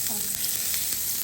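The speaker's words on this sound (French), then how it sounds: "ici sur ma plancha bien chaude, je viens mettre du beurre. Je vais faire fondre" Butter melting on a hot plancha gives a steady, quiet sizzle and crackle, heard alone with no talk.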